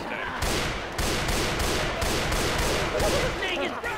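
Guns fire continuously in a zombie shooter, a rapid, steady stream of shots with regular bursts over noisy action, with faint voices in the mix.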